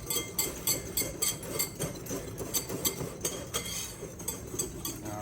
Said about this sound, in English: if you mix it with the flour, whisk it together, break up the lumps